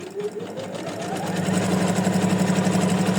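Sewing machine running steadily and loudly, its motor a continuous rhythmic whir that builds slightly after the first second, with no talking.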